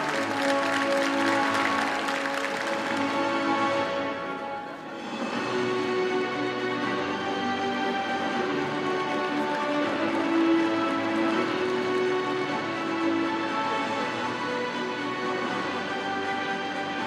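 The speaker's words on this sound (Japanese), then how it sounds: "入賞した選手に今一度大きな拍手をお願いいたします。" Audience at a judo tournament awards ceremony applauding the prize winners, a steady, sustained round of clapping with a brief dip partway, then continuing evenly to the end.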